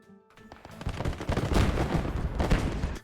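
In a Gates of Hell war game, an 81 mm mortar crew fires and the gunfire around it builds from a few sharp cracks into dense, rolling bursts and booms that last several seconds.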